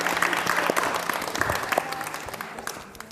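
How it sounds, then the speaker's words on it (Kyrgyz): A studio audience on a talk show breaks into applause, a dense burst of clapping that is loud at first and gradually fades over a few seconds. "Керемет, кол чабуулар болсун."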